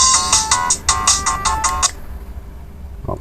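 Loud polyphonic chimes ring out from a Samsung SGH X600 mobile phone in a quick, bouncing pattern for about two seconds before cutting off, leaving a quiet room tone with a faint click at the end.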